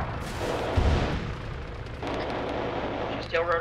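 Stinger missile launch and impact on a helicopter in Arma 3, a sustained roaring rush with a heavy low thump early on, continuous rumble throughout and a brief burst near the end.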